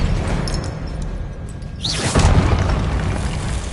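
A spell blast in the video game Hogwarts Legacy: a deep booming explosion erupts midway with a rushing whoosh, then a sustained rumbling roar continues over a dense layer of game noise.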